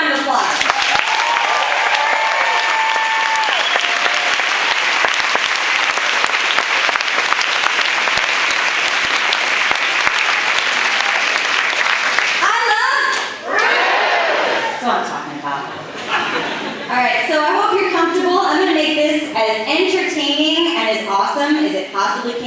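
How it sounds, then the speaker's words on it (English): A big outdoor crowd at the Woodstock Fruit Festival opening ceremony at Camp Walden claps in a long, loud, sustained round of applause, later mixed with cheers, whoops and overlapping voices as it continues. "So let's give them a round of applause."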